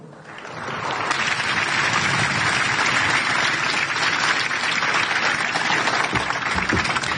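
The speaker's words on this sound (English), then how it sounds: "please join me in a warm round of applause for the Honorable Gabe Camarillo" A crowd at an outdoor U.S. Army ceremony renaming Fort Hood to Fort Cavazos breaks into warm applause, rising quickly and holding as a loud, dense wash of clapping throughout.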